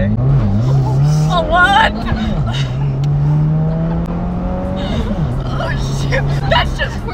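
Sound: Subaru all-wheel drive launch in first gear, tires squealing

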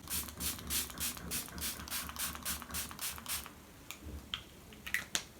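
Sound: makeup setting spray being sprayed

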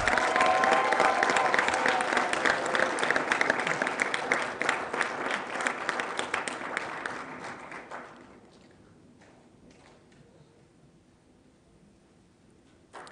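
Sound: audience applause for graduating MBA class

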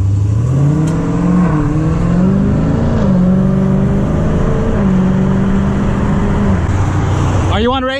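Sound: BMW V6 car engine accelerating in street race

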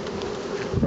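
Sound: bees buzzing around a newly populated beehive

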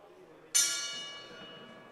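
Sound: boxing ring gong bell starting round

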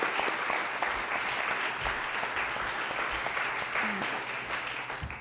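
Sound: audience applause

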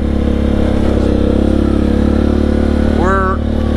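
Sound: Suzuki KingQuad ATV engine while driving

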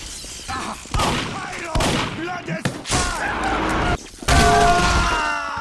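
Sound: gunfire in a video game

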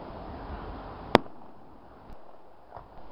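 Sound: fireworks exploding overhead

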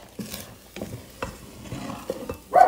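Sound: stirring Portuguese rice pudding in a pan

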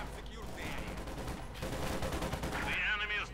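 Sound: Panzer gunfire in video game Company of Heroes 2

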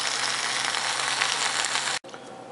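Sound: Russian MRE beef with buckwheat porridge sizzling while heating

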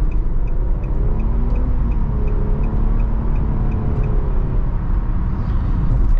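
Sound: 2022 Nissan Murano 3.5 V6 engine while driving

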